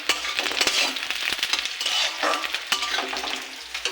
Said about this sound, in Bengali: সিম, কাঁচা লঙ্কা, শুকনো লঙ্কা, কালো জিরে, রসুন সব দিয়ে এটা ভেজে নিচ্ছি।